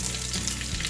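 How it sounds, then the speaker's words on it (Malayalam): Curry leaves crackle and sizzle in hot oil for a moment, a dense, close frying hiss with fine popping and no voices. "ഇതിലേക്ക് കറിവേപ്പിൻ്റെ ഇല ചേർക്കാം."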